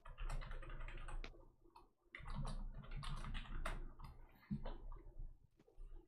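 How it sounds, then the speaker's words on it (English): Rapid typing on a computer keyboard, a close run of light clicking keystrokes in uneven bursts with brief pauses, fairly quiet and heard on its own. "I was typing something out."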